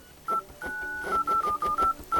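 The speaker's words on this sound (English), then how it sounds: "Pick dial pad tones, mark it, and from now on it will be active." Dial pad tones from a MediaTek KT107 phone, a rapid run of short electronic DTMF beeps, about seven tones in quick irregular succession, close and clear.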